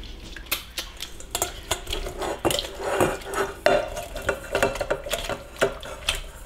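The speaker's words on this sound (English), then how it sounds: "I'm pressing it, passing it through the colander here" Gingerbread sauce is pressed through a colander in a sink, with repeated scraping and squishing strokes of a utensil against metal. The strokes come in a quick, irregular rhythm, near and moderately loud, with no talk.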